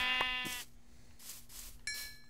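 A Minecraft sheep bleats in the video game, one clear wavering bleat followed by a short gap and then another brief bleat, fairly quiet and alone.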